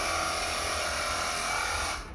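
A portable car washer gun fitted with a shower-style nozzle sprays water in a fine, even stream, a steady motorised hiss and whine that runs evenly and close, then drops away at the end.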